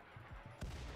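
A single gunshot fires in RimWorld during a fight with polar bears, a short sharp report near the end after a few faint softer thuds, fairly quiet overall.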